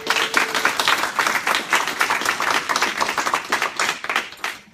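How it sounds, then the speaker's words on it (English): Enthusiastic applause from an audience, close and loud, with individual claps distinct in a lively, uneven rhythm. "So let's give all of them a round of applause."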